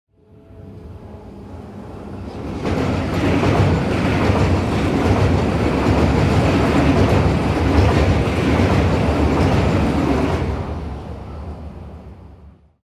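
A train rolling along its tracks, a dense rumble with wheel clatter that builds in, holds loud and steady for several seconds, then fades away.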